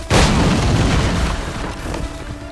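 A cannon fires in Assassin's Creed 3 with a single loud, deep boom, followed by a long rumbling roar and a trailing wash of noise.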